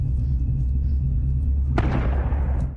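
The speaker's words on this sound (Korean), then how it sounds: "이때 밖에서 들리는 총소리" A single sharp gunshot from outside cracks out over a low, rumbling background, its noisy tail decaying over about a second.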